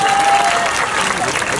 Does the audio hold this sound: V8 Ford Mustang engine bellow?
no